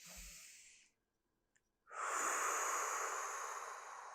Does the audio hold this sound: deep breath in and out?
yes